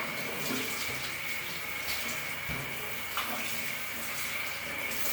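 Water runs steadily from a tap while someone washes their hands, a continuous splashing hiss lasting the whole time, with no one speaking over it.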